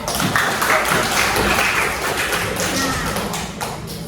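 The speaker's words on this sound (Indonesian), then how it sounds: "Sekali lagi buat Naila, tepuk tangan." A classroom of students gives a short, brisk round of hand clapping for a classmate, close and fairly loud, dense taps and thuds fading toward the end.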